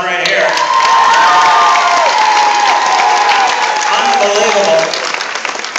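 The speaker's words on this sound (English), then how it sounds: "Let's give this guy a round of applause right here." A school audience applauds and cheers for a boy going bald at a head-shaving fundraiser, with sustained clapping mixed with children's shouts and voices throughout, fading slightly at the end.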